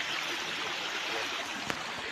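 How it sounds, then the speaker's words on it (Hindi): Water rushes steadily at a waterfall, a broad constant hiss with a single brief click near the end and no talking over it. "ये पानी है और ये भी अच्छे झरना है।"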